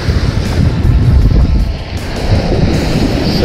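Surf breaking on a beach during bluefish casting, heard as a loud, continuous rumbling wash of waves mixed with wind buffeting the microphone, with no talk.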